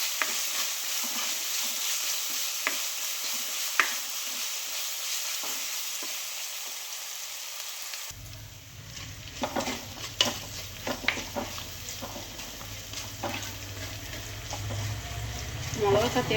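Green chillies with crushed garlic and ginger sauté in a pan for a Kerala-style sardine curry: a soft sizzle at first, then louder frying mixed with clinks and scrapes of stirring utensils in the second half.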